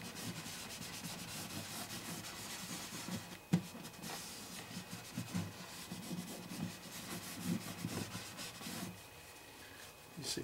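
Soft rubbing and wiping strokes as a product is applied to and buffed off a Martin HD-28 acoustic guitar, quiet and close, a continuous scrubbing texture with an occasional small knock.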